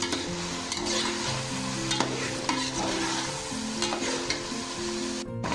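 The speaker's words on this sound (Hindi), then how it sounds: "चिकन को अच्छे तरीके से फ्राई करना है।" Chicken pieces fry and sizzle in a pot for a yakhni pulao while a spoon stirs them steadily, with scraping and clinking over a constant close, loud hiss of hot oil.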